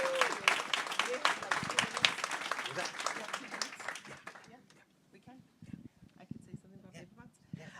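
An audience at a summit fireside chat applauds for the Treasurer of New Mexico with brisk, crisp clapping that fades out after about four seconds, followed by quiet room sounds and faint talk.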